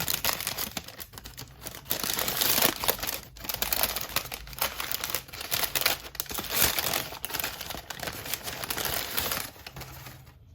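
Paper being unwrapped from Vitra Alexander Girard wooden dolls, a steady run of close crinkling and crumpling with short tearing bursts, loud and continuous with no talk.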